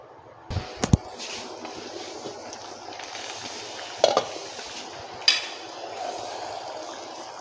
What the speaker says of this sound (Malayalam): തിളയ്ക്കുന്നുണ്ട്.